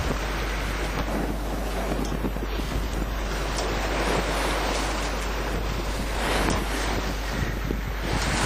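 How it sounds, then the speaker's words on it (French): Sea waves along the Riviera heard from a boat, a loud continuous rush of water and surf mixed with heavy wind buffeting, with no voices. "La mer est belle et nous sommes seuls sur les flots bleus."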